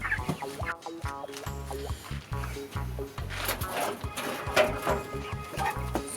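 Backyard chickens cluck and chatter continuously on wood shavings over cardboard at a small urban farmstead in Jamaica, close and busy, with scratching and shuffling throughout.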